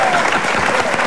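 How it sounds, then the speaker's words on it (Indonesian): Brief, dense applause from a group, loud and steady, with a faint voice mixed in. "Lu tepuk tangan dong."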